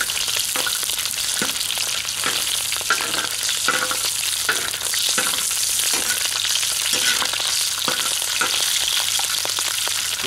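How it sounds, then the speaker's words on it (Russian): Lamb liver sizzles and spatters in a hot pan, a loud, dense, continuous frying hiss with occasional crackles and stirring scrapes, close up and without talk. "Дома на сковороде такие вещи жарить не очень удобно, потому что все разбрызгивается"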